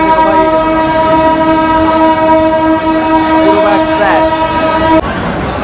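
A Poorva Express train, No. 12304 running New Delhi to Howrah, pulls into a station platform with a loud sustained horn blast over the rumble of the cars, then the horn cuts off and the rolling noise continues.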